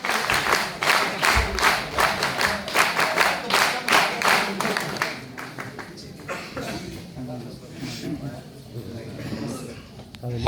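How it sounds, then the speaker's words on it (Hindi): An audience claps loudly for a speaker at a talk, dense rhythmic applause for about five seconds, then fading into scattered claps and murmuring voices. "जोरदार तालियां सर के लिए।"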